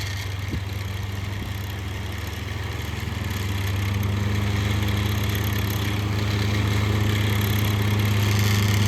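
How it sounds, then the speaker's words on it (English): A Lakewood 1220A 12-inch oscillating fan runs at high speed, giving a loud, steady rushing whoosh over a constant low motor hum that swells slightly as it goes, with no voices. "That's just how powerful this fan is."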